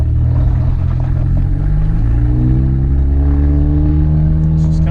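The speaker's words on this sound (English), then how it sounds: "I want you guys to listen to the car." A car engine idles loudly and steadily up close, with a continuous low rumble and rattling clatter throughout.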